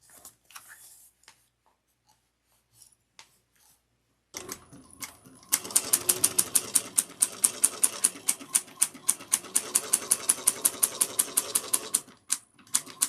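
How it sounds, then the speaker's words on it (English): A sewing machine top stitches through foam on a tote bag, making a rapid, regular run of sharp crackling clicks like popping bubble wrap, loud and close, after a short quiet stretch with faint handling noises. "The foam sounds like that when I sew. I don't know why. It's just the way this particular foam sews up. It sounds like bubble wrap."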